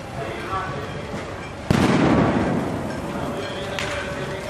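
Outdoor crowd noise at the Maidan protests in Kyiv with a sudden sharp grenade blast nearby, leaving a rumbling roar; a fainter bang follows later.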